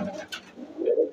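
A pigeon bred at home gives a brief, soft coo close by, a low throaty murmur rising at the end, with faint rustling around it.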